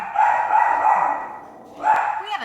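A small dog barks in a quick run of sharp yaps, then a short pause and a few more barks. The sound is loud and close, and it is heard on its own with no voices.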